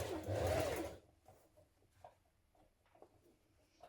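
A sewing machine stitches a coat sleeve in place in one loud, close burst of rapid whirring that cuts off after about a second, leaving only faint clicks and handling sounds.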